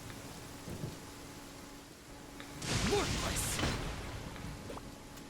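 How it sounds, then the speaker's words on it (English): Rain and thunder in Genshin Impact: a soft, hissing rainfall carries through, then a louder rolling thunder surge swells midway and slowly fades, with a voice speaking briefly over it. "Oh, there's thunderstorm. Oh, it's raining."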